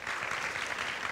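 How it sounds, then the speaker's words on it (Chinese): A university lecture audience claps for a guest speaker, a dense, continuous burst of applause filling the room for about a second. "先给他掌声好吗？"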